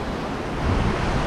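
Ocean waves washing onto the seashore, a continuous broadband rush that swells slightly louder toward the end, with some wind.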